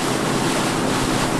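Ocean waves at sea off Geoje, where women divers float among the swells, surging loudly and steadily throughout with a roaring wash and wind buffeting the microphone, no voices.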